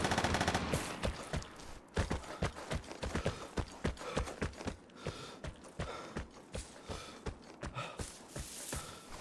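Gunfire in the video game Vigor, a long run of fairly faint, uneven shots, some close and some farther off, popping in rapid irregular succession.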